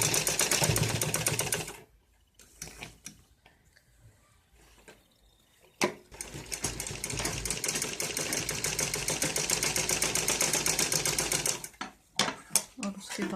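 A sewing machine stitches the shoulder seam of a net-cloth ladies suit in loud, rapid bursts of stitching, with a quiet pause of a few seconds near the start and a brief break near the end.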